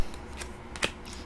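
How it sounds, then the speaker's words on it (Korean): Tarot-style fortune cards shuffled and flipped by hand, a few quick papery riffles and snaps, close and fairly quiet with no talking. "사주팔자 카드로 한번 예쁜 카드로 한번 뽑아볼게요"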